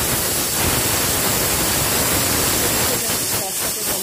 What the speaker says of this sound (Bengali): মাছটা সর্ষের তেলে ভাজতে দেব।